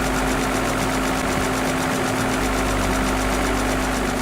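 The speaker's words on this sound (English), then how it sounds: "So the tractors start to show up." Tractor engines in the farming video game Farming World run in a steady, loud mechanical drone with a constant hum, continuous and unbroken throughout.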